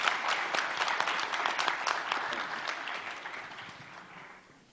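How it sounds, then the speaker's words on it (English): Conference audience applause at a UNDP Montenegro event, a full, even clapping from many hands that slowly fades over nearly five seconds, with no talking over it. "Please give an applause"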